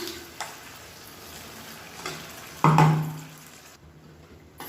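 Ground garlic thokku paste sizzles and fries in a pan with a steady, soft crackle, then swells briefly into a louder hiss as it is stirred before settling down again.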